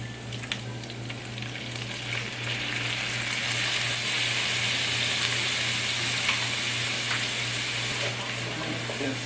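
Liquid aminos poured into a hot pan for an Asian dipping sauce, a steady loud sizzle that holds evenly throughout, close by with no speech.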